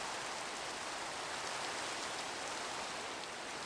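Steady rain hisses down in a Minecraft Skyblock world, a soft, even wash of falling drops that stays constant throughout with no talk.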